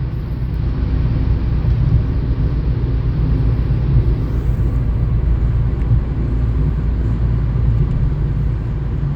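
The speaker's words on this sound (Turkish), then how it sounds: "Şu an gayet rahat 5. viteste 110'la gidiyorum" Inside a Kia Picanto 1.0 with a 67 hp automatic gearbox cruising at 110 km/h in fifth gear around 3000 rpm, a steady, loud low drone of engine and road noise fills the cabin without a break.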